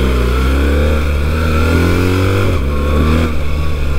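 A BMW 1300 GS Enduro motorcycle engine revs hard and climbs through first and second via the quickshifter, its pitch rising steadily, dipping briefly at a shift, then climbing again, loud and close with no voices.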